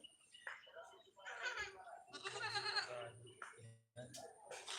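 Goats bleat close by in a few loud, wavering calls, one after another, with brief quiet gaps between them.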